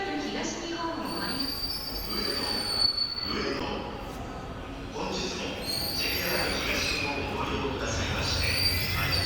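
Commuter train pulling into Ueno station in Tokyo, its steel wheels letting out a sustained high squeal over a steady rumble of the cars, with faint station chatter underneath.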